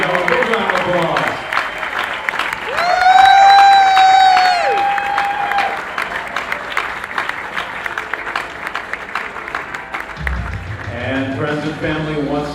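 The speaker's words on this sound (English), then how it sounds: "Big round of applause." Applause and cheering from guests at a wedding reception swell loudly and fill the room for several seconds, with a bright sustained tone rising above the crowd before fading back to talk and room noise.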